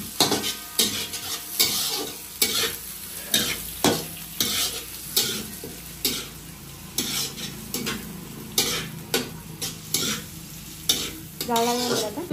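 Food sizzles steadily as it fries in a pan over a wood fire, with repeated stirring scrapes and clinks of a spatula against the pan in an uneven rhythm, close and fairly loud throughout, no talking.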